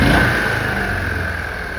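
A carbureted engine on an Argo 8x8 amphibious vehicle runs steadily at idle, a continuous close mechanical drone with a faint high whine, holding even for the couple of seconds with no voices.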